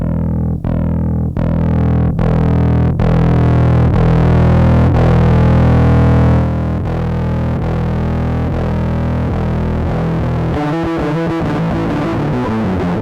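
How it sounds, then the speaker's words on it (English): A heavily distorted bass guitar played through a JHS Packrat distortion pedal plays a series of loud, gritty notes in a steady rhythm, ending with rapid choppy picking, no voices. "So obviously full distortion bass, that's a thing too."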